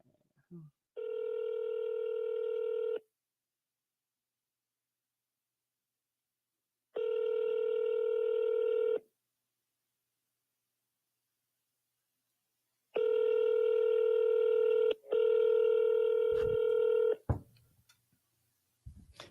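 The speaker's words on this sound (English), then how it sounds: "Okay, I'm calling a different one." Phone call to a for-sale-by-owner home seller: a loud, steady electronic ring tone in three bursts, two about two seconds long with long pauses between, then a longer double burst followed by faint clicks.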